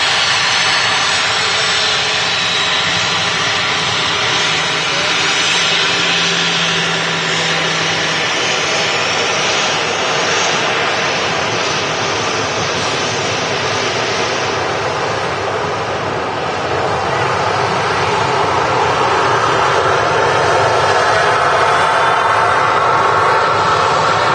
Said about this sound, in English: Maltese registered Ryanair, Boeing 737-800.